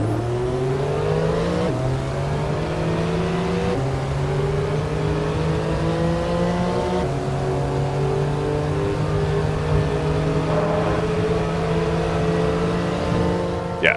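A TECHART 992 Turbo S in the Assetto Corsa racing game holds a loud, steady engine drone that rises smoothly through the gears, with brief dips at each shift, heard alone without talk.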